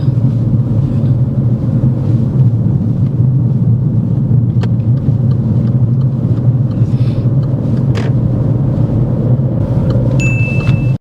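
A learner driver's car travels steadily through a roundabout, its engine and road rumble forming a continuous low drone with a couple of faint high clicks or dings near the end, and no talking.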